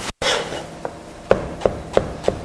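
Knife tip-fulcrum cutting of vegetables on a board, several crisp separate chops spaced roughly a third of a second apart, close and clear with no talk.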